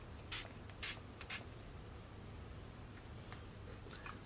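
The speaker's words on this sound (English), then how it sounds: "We're going to set the makeup with this Colourpop All-Star setting spray." Colourpop All-Star setting spray misted from a pump bottle in a few short, fairly quiet bursts, about three close together, then fainter spritzes over a low steady background.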